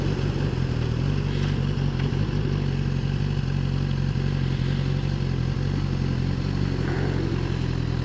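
A 2016 Suzuki GSX-S1000 1000cc motorcycle engine runs at a steady, even pitch, close and loud, with a continuous mechanical hum and no pauses.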